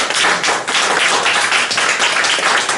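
A church congregation claps together in steady, dense applause, a loud continuous rattle of hands with no voices standing out.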